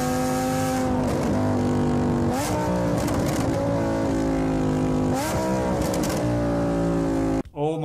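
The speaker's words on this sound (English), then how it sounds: "Here's a clip of the Huracan." A Lamborghini Huracan with an FI exhaust revs loudly in repeated sharp bursts, the engine rising and falling several times at close range before cutting off abruptly.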